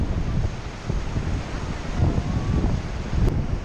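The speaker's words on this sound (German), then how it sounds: "Es kärchert schon ordentlich und windet." Strong wind buffets the microphone with steady roaring noise while water sprays at a glacier-fed waterfall, a continuous loud rush with no clear breaks.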